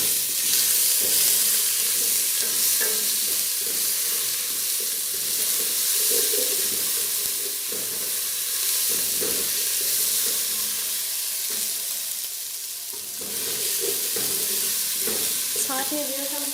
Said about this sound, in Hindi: अब जो है यहाँ पे मैं 1 टेबल स्पून अदरक लहसुन का पेस्ट डालूँगी।